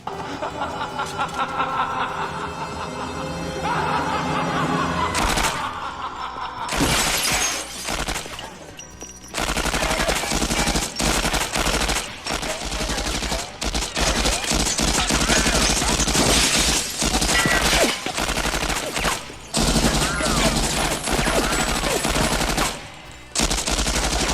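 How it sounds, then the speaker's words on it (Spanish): Reaper fires wildly in all directions in the game Overwatch, producing long bursts of rapid, loud gunfire with sharp breaks and restarts. Brief snickering laughter rises between volleys over a sustained game soundtrack. "El sistema de Reaper, sin embargo, es ponerse a disparar a lo loco sin pensar en todas direcciones."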